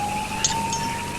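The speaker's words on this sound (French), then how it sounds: "Monsieur Pike, vous entendrez les sirènes avec lesquelles la police s'annonce de nos jours" A police siren sounds as a steady, moderately distant tone under faint street background noise, holding its pitch across the short moment.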